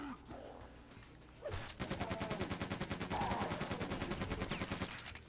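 Rapid, heavy shotgun-style blasts from the Quake 2 super shotgun ring out in a dense, rhythmic burst, loud and close, after a brief quieter stretch with a single shot.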